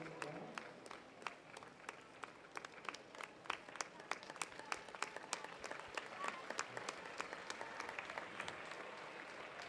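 A crowd at a county swimming gala claps steadily for a young swimmer in a long heat, with sharp hand claps over a continuous hum of applause in a reverberant pool hall.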